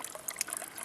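A small natural spring trickles and splashes steadily, a soft, close, continuous dribble of water with no voices.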